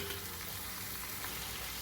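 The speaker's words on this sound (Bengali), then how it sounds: "এবার ভালো করে এটাকে নাড়বো" Beet, carrot, peas and garlic leaves fry in a wok, a dense, even, close sizzle that holds steady throughout with no talking.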